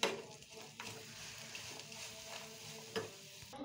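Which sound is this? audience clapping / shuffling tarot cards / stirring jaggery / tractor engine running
stirring jaggery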